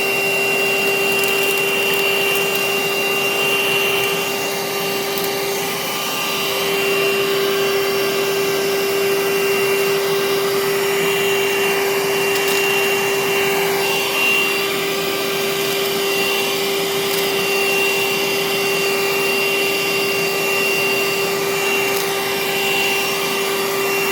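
A loud, steady Parkside PHSSA 20-LI A1 cordless vacuum cleaner whine drones continuously, with small rattles and clicks of screws, nuts and washers being sucked up; no speech.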